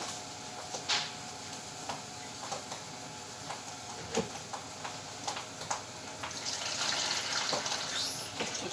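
Light clicks and taps of a pot being handled, then a little water streams into the pot for steaming vegetables, a soft splashing pour that grows fuller toward the end.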